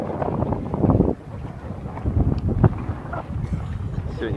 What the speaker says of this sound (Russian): Сегодня, кстати, сильный ветер очень.